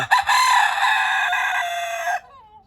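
A single loud Fayoumi rooster crow, long and strained, lasting about two seconds before cutting off abruptly, with a faint trailing sound after.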